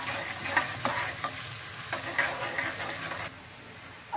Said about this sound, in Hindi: वो जो मैंने प्याज ली थी, एक दरमियानी कह लें या छोटी कह लें, वो मैंने फ्राई करनी है।